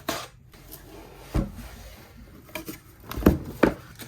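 A box holding 24-inch floating shelves is opened, with scattered cardboard flaps, soft knocks and rustling handled up close at moderate volume, no talk.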